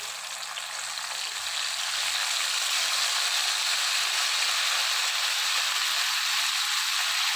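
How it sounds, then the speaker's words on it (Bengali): Balachao ingredients fry in oil until red-brown, giving a constant, dense sizzle that swells slightly early on and then holds steady, close-up with no voices. "একদম ব্রাউন করে বালা চাউয়ের যেরকম কালার হয় এরকম লাল লাল করে ভেজে নেব"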